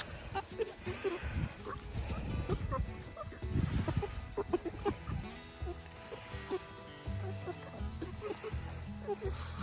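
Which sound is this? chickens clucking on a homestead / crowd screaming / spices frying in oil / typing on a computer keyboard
chickens clucking on a homestead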